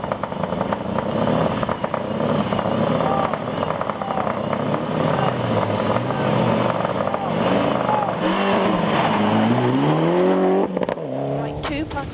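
A rally car blasts through a forest stage in Dyfi Forest, its engine roaring loud and close with rising and falling revs through the gears. Voices talk under the engine noise.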